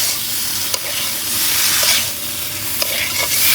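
Potatoes being fried and stirred with spices in a pan for a curry at a nighttime picnic: a continuous loud sizzle with a few scraping stirs of the spoon, close up and with no talk.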